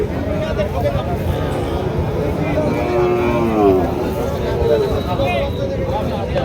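Cattle at a crowded rural livestock market where Sahiwal and Nepali Gir bulls are sold, with a drawn-out low moo rising over a dense babble of voices and general market noise.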